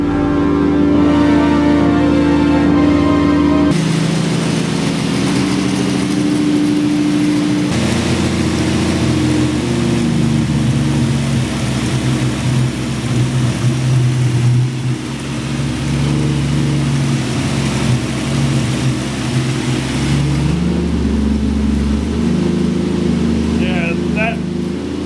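A 1965 Ford Mustang engine idles steadily through its muffler, a continuous low rumble close by for the whole stretch, with speech over it.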